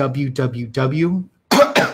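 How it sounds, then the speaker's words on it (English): Someone speaks briefly, pauses, then coughs twice in quick succession, close and fairly loud. "sorry, I'm coughing a little bit"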